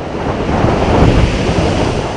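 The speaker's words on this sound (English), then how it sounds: "you definitely see a lot of, waves that come in from every direction" Lake waves pound a point of shoreline, a steady broadband roar of surf with rolling swells and wind buffeting the microphone throughout, loud and continuous with no voices.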